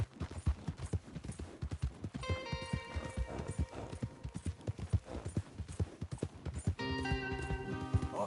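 Horse hooves clip-clop steadily across the scene in Red Dead Redemption 2, a brisk repeated beat of several horses close by, with musical tones and occasional voices over it.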